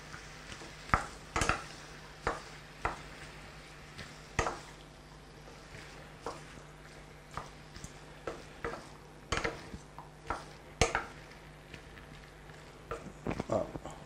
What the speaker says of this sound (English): Now, let's give it a good stir.